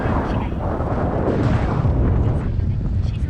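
A strong headwind roars and buffets the microphone in a constant, loud, rushing blast that never lets up, on a loaded touring bicycle riding along the Nakdong River beside reeds.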